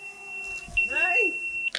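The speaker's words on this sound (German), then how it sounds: "Aber der Pager geht." A pager sounds an alarm with a steady high electronic tone, joined by brief chirping beeps, while voices talk in the background during a fire brigade drill with a smoke machine running.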